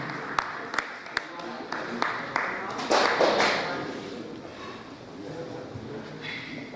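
Audience applause at an Urdu mushaira in Dallas, greeting a woman poet as she comes up to recite: sharp claps at first, swelling into a fuller burst of clapping from the room, then tapering off.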